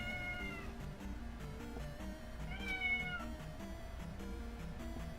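A domestic cat meows several times in drawn-out, tonal calls with a few short pauses between them. It sounds close and fairly soft, with no talking over it.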